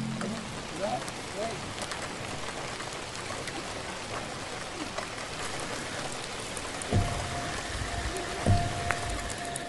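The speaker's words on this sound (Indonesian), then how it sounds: "hujan" Steady rain pours down on the Sembalun route of Mount Rinjani, a dense continuous hiss close by, with a few faint knocks and brief tonal sounds late in the scene.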